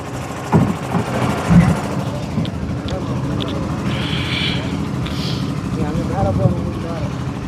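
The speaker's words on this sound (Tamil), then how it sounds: "ஐஸ் அடித்து ஏற்றுறதுனால இன்ஜின் சத்தமாக இருக்கிறனால" A loud truck engine drones steadily at night while ice is loaded beside a fishing boat, with people talking over the low rumble throughout.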